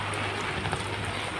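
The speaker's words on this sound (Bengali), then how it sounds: "তারপরও কিন্তু বৃষ্টি পড়তেছে" Steady rain falling outdoors around an electrical line repair job, a continuous dense patter with a low hum running underneath, no voices.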